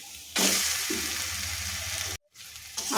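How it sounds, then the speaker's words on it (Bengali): Boiled potato fries in a pan of spiced masala with a steady, close sizzle and a few stirring scrapes, broken by a brief silent gap. "আলুটাকে একটু ভাজা ভাজা করে নেব।"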